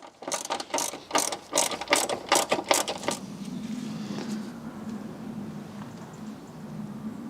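A ratchet clicks quickly while a 10mm plastic nut comes off a BMW, roughly a dozen close, crisp clicks over three seconds, then a low hum remains.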